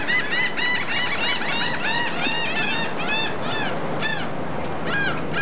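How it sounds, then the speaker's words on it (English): Loud birds squeal and squawk in a dense, overlapping chorus of harsh, repeated calls, close by and continuous, with no talk over them. "What them birds talking about?"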